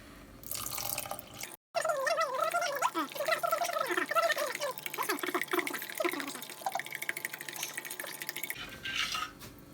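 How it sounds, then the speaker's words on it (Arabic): A liter of milk pours into rice cooking in a pot, a continuous close gurgling, splashing stream that starts after a brief silence and runs for several seconds before tapering off. "هنحط بقى لتر ايه من الحليب"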